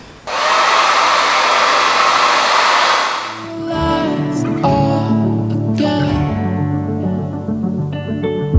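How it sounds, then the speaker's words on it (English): A hair dryer blasts loudly and steadily at close range while drying a wig, then switches down to a lower, humming setting for the rest of the stretch. "Blow drying it."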